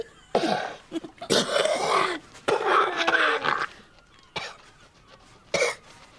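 Harsh, rasping coughing fits from a woman coughing up blood come in several bursts, hacking and strained, close by with short quiet gaps between them.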